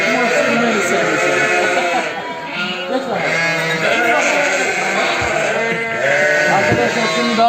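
Lambs on a farm keep up dense, loud bleating from many animals at once, with people talking among them.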